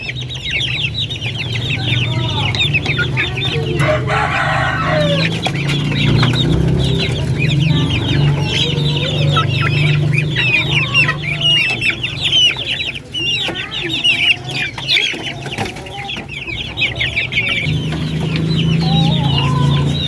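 Chickens, including jumbo barred Orpingtons raised on commercial feed, cluck and call steadily and close by for twenty seconds, with occasional crowing mixed in and no talk.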